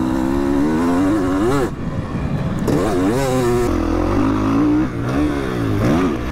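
A two-stroke motocross motorcycle rides through woods, its loud, close engine rising and falling in repeated revving bursts as the rider accelerates between obstacles, with no talking.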